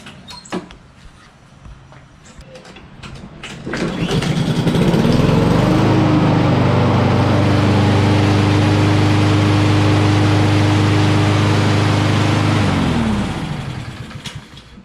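A Honda HRR2169VKA walk-behind lawn mower, just fitted with a new spark plug, starts after a few seconds of quiet and then runs with a loud, steady engine drone nearby before winding down at the end.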